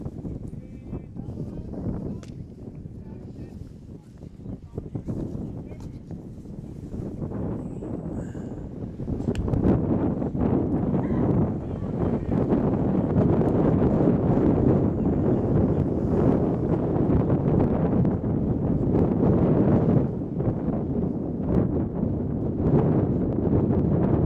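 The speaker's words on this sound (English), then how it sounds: "Wind causing havoc again with the players." Steady wind gusting across an outdoor baseball field during a high school game, a broad continuous rush that swells louder after the first few seconds and stays strong throughout.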